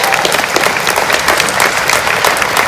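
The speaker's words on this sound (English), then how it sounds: "I'd like to give them a round of applause," A crowd at an outdoor memorial rally claps steadily and loudly for a group of volunteers, a dense, even wash of applause with no pause throughout.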